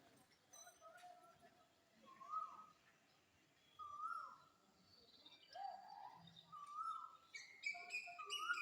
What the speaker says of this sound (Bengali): এদিকে পাখিটা দেখো কু কু করেই যাচ্ছে